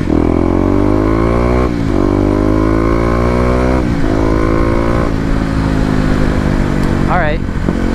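A Kawasaki KLX250 motorcycle engine revs on the road, climbing in pitch through each gear and dropping at every shift, close and loud throughout, with someone talking over it.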